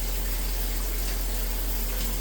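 Steady hiss of shower water running for an umbrella cockatoo, a dense continuous spray with a low hum beneath, close and unbroken.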